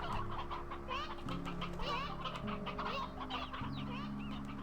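Several roosters cluck and chatter in quick, overlapping bursts in the video game Slime Rancher 2, moderately faint over a layered music bed, with no talking.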